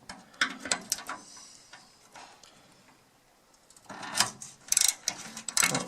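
A ratchet turns to loosen a bolt on a wood stove bypass door, giving bursts of quick metallic clicks, near and moderately loud, separated by a brief quiet pause.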